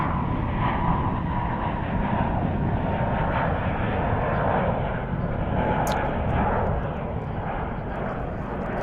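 Passenger jet at DFW airport in Texas, a Boeing 787 Dreamliner or Airbus A321, roaring steadily and loudly with a broad, continuous engine rumble that holds level throughout, with no talk.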